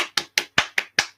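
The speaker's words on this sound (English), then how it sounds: "I'm the one that's here clapping like a bloody seal." Six sharp, close hand claps land at an even, steady rhythm, each a crisp snap that quickly fades before the next, with nothing else around them.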